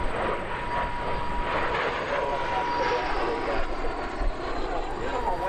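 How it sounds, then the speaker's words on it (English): The Red Knight warbird airplane roars past at an airshow, its engine a loud sustained drone that swells slightly, with a voice talking over it. "Here comes the Red Knight from our left."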